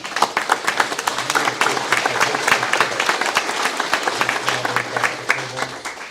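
Close, brisk applause from an audience at an annual community membership meeting, many hands clapping rapidly in a dense, lively patter, with a low murmur of voices underneath.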